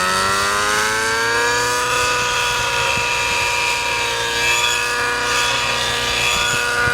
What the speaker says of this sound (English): Okay, you can hear that engine.